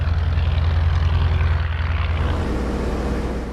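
A propeller airplane in flight drones loud and steady, its engine and airscrew giving a continuous low throbbing roar with no pauses, heard from close by inside or near the aircraft.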